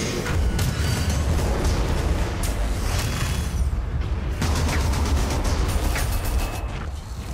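Heavy gunfire aimed at a squiggoth in the Armageddon: Da Orks strategy game, a loud, continuous rumbling barrage of booms and blasts that runs without pause, with no voices over it.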